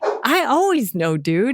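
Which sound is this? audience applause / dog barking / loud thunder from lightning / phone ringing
dog barking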